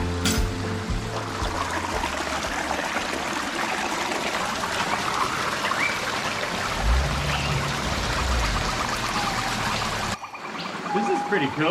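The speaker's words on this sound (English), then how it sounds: "to have a waterfall coming straight down onto the beach like this" A waterfall pours straight down onto a beach beside a reef, a steady, dense rushing wash that stays constant and fairly loud for about ten seconds before cutting off, with faint voices near the end.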